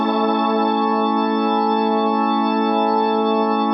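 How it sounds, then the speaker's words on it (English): A sustained organ chord from a Nord Stage 3 rings out steadily through a Leslie rotary speaker cabinet slowing down, a rich, full tone held without a break. "the Leslie cab is a rotating horn in the inside of a speaker cabinet"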